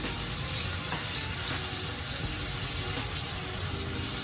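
Okra deep-fries in a pot of hot oil, giving a dense, steady bubbling sizzle that holds at an even level throughout with no voices.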